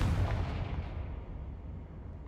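Explosive blast from a Confringo spell in the video game Hogwarts Legacy, a loud booming burst that rolls off into a fading low rumble over about two seconds.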